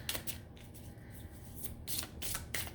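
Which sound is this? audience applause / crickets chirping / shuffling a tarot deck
shuffling a tarot deck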